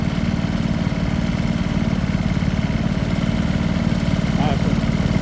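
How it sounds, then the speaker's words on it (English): Antique hit-and-miss engines such as Sandwich, Economy, Bulldog and Majestic running at a harvest reunion show, a steady low chugging drone throughout with crowd chatter and talk underneath. "back to some hit and miss engines"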